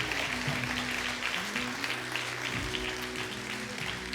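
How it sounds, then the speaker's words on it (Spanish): A church congregation applauds together during a sermon, a steady dense wash of clapping lasting throughout while a low sustained organ or keyboard tone plays underneath. "Si vamos a aplaudir todos juntos."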